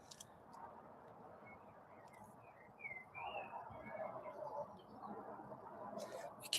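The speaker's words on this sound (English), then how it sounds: "Yeah, there are birds singing." Faint bird chirps and trills sound outdoors in Spain over a steady background hum of traffic, growing slightly louder toward the end.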